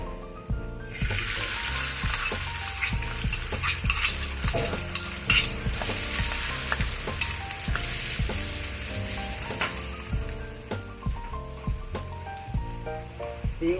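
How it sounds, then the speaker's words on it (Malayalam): Sardine roe fries in coconut oil in a hot pan over low heat, giving a dense, continuous sizzle full of sharp crackles and pops, close and loud, with no talking. "നമുക്കത് പൊരിക്കാൻ തുടങ്ങാം"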